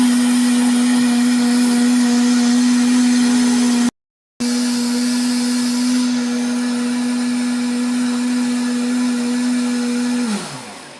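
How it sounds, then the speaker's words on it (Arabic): An electric blender whirs loudly and steadily while mixing liquid cupcake batter ingredients with vanilla, cutting out briefly, resuming, then winding down as it is switched off. "نشغل الخلاط"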